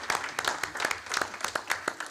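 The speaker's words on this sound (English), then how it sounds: "We'll give you a round of applause for that." Applause from a school board meeting audience, a short patter of scattered hand claps, fairly faint and sparse, with no voices over it.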